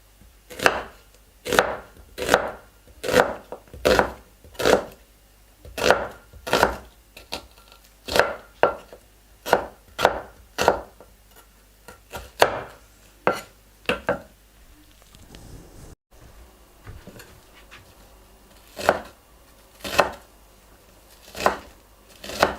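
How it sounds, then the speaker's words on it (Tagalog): Garlic crushed and chopped on a board for a seabass dish with shrimp paste and chili paste sauce, about two dozen sharp knife chops in quick rhythmic bursts with short pauses, close and clear, no talking. "This is the crushed garlic."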